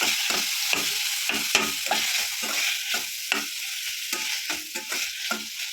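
Chopped medium tomato sautéed in a pan: a bright sizzle runs throughout while a spatula scrapes and stirs in a brisk, repeated rhythm of short strokes, close and fairly loud.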